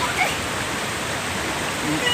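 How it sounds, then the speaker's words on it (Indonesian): Heavy waterfall at Curug Dua on Gunung Parentas, a steady broadband roar of falling water filling the scene, loud and continuous throughout without pause. "ini deras banget nih. Air terjunnya dari sono bos tuh. Air terjun bos."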